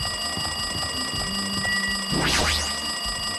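A phone ringing inside the DanganRonpa 2 Goodbye Despair video game, steady electronic ringing tones over a soft musical backdrop, with a quick rising and falling sweep midway.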